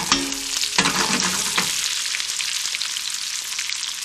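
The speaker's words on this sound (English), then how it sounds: "So we're gonna cook these onions now on to medium to high." Onions sizzling hard in hot bacon grease over medium-high heat, a steady close frying hiss with a few sharp stirring scrapes near the start, no voices.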